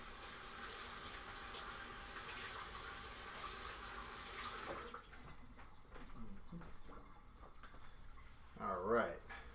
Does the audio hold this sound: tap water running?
yes